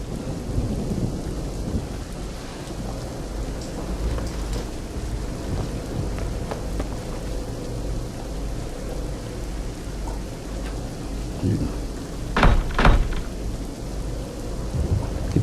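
Heavy rain pouring at night, a steady wash of downpour with rolling thunder rumbling through it and a sharper, louder crack of thunder near the end.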